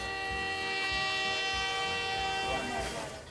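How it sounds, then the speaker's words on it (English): A fair train hauling carnival amusement rides arrives at a county fair, its steady, loud rumble and sustained horn-like tones filling the scene, tapering slightly at the end. "The much-anticipated arrival of the fair train carrying the precious cargo of amusements"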